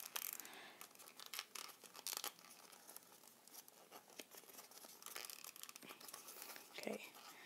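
Paper crinkles and creases steadily while being folded into a paper boat, with a run of close, light rustling and scratching and a sharper crumple near the end.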